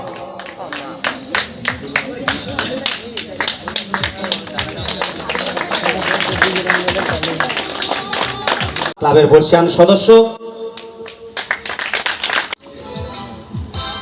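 Audience at a club prize distribution clapping, dense rhythmic applause for several seconds that fades, with a person speaking over a microphone partway through.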